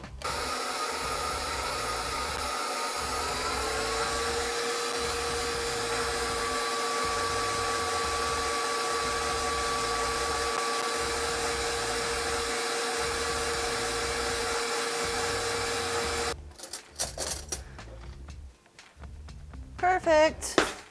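Stand mixer whipping meringue, its bowl coated in sugar syrup: a steady, loud motor whir with a rhythmic thump, running for about sixteen seconds before it stops, followed by scattered clatter and handling noise.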